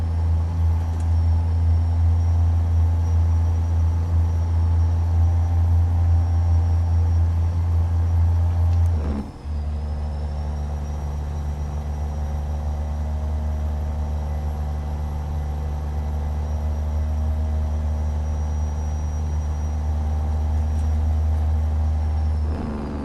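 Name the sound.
truck driving in American Truck Simulator video game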